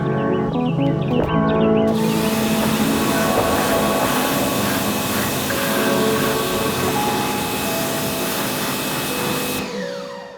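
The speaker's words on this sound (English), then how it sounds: "I'm working with a 40-degree pressure washer tip, so it's wide enough to clean a large part of the wheel at a time" Pressure washer with a wide 40-degree tip blasting a car wheel, a loud steady broadband hiss and spray that starts abruptly after a short mechanical lead-in, runs continuously near the mic, then cuts off at the end.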